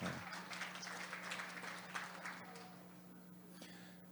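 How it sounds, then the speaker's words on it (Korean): A forum audience in a hall gives a modest round of applause, soft and diffuse, held under a steady low hum and fading slightly toward the end. "박수 한번 주시죠."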